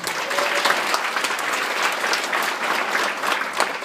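A live audience at a comedy show gives a sustained round of applause for a volunteer, many hands clapping densely and steadily, fairly close, with no pause throughout.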